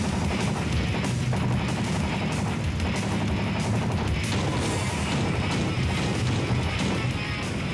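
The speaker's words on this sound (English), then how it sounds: "Oh, there we go. Cool. Explosions!" Rapid gunfire and crashing blasts from the video game Twisted Metal 2: World Tour, a dense, loud barrage of bursts and booms continuing throughout.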